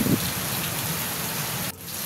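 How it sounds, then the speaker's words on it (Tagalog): Steady rain falls in an outdoor farmyard where chickens are kept, a dense, close hiss of drops on surfaces that continues without pause, briefly softening near the end. "Hindi tumigil ang ulan."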